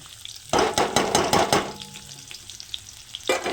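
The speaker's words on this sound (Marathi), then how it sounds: "आता याच्यामध्ये कांदा टाकून घेऊया" Onion dropped into hot oil with cumin in a kadhai bursts into a loud, crackling sizzle that gradually settles into a steadier fry, with a brief scrape or clatter near the end.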